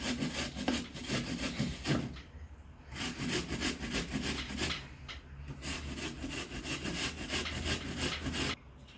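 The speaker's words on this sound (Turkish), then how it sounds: "Şimdi elmamı rendelemeye devam ediyorum." Apples being grated by hand on a freshly swapped grater, a steady run of close, rasping scrapes in quick repeated strokes with brief pauses between passes; no talking.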